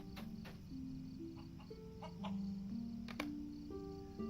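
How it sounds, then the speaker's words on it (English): Chickens cluck repeatedly in a video game during a wolf-hunting quest, set among steady tonal game music and chiming effects, with no talking. "Now we need to bring the chickens back to Dora"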